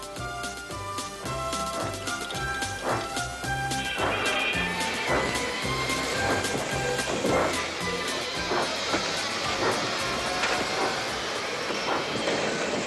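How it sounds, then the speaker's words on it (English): Two animated steam engines puffing hard as they haul a stranded tank engine back onto the rails in a Thomas and Friends episode: loud, steady rhythmic chuffing and rail clatter, close up, under a continuous musical score with no talking. "Donald and Douglas, puffing hard, managed to haul Thomas back to safety"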